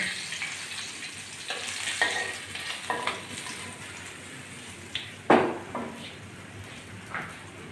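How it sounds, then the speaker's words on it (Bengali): Pieces of katla fish frying in hot oil, a continuous close sizzle with scraping stirring sounds and occasional sharp spatters, no talking. "মাছগুলো সব একই রকম করে ভেজে তুলে নেব"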